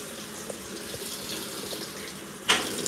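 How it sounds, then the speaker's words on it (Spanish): A GE washing machine's water valve opens and water begins running in, a soft steady hiss and trickle with a few small clicks and a brighter splash near the end. "Y ahí abrió la llave el agua."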